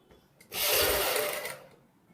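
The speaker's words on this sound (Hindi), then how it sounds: "क्योंकि बड़ा गला है तो हम सेंटर की एक सिलाई लगा लेते हैं" A sewing machine runs a single steady burst of stitching along the centre line of a wide kurti neckline, starting abruptly, holding for about a second, then stopping, close and fairly loud with no talk.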